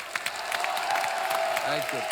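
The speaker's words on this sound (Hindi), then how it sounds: "जोरदार ताली" Audience applause at a live comedy talk show taping, a brief burst of dense, crackling clapping that carries steadily throughout, with some crowd noise mixed underneath.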